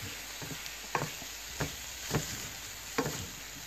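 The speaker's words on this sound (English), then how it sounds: "Then I'm going to stir this around." Chicken teriyaki stir fry sizzles steadily in a pan, with a few distinct scrapes and clacks as it is stirred at a slow, irregular pace, close and moderately loud with no talking.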